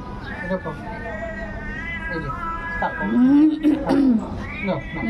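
Several cats meow close by, overlapping and drawn out, while a person talks over them.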